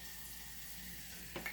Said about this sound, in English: So you can fry the garlic to a blackened state